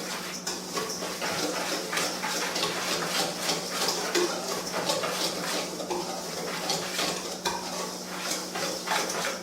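Dry cornmeal, wild rice meal, nutmeg and salt stirred together in a bowl, a steady close scraping and rustling with a faint spoon clinking against the sides, no voices.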